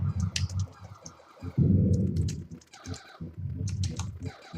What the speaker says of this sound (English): I don't know if you can hear me hitting the keys